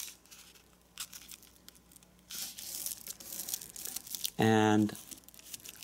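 Paper being folded and creased for an origami jack-o-lantern, close crinkling and sharp creasing swishes scattered through the clip, with a person speaking briefly.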